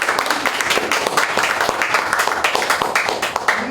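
Steady applause from a lecture audience at a professional graduate course talk on biodiversity, continuous moderately loud clapping throughout with no pause.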